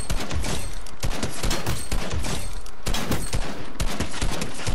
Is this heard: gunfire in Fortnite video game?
yes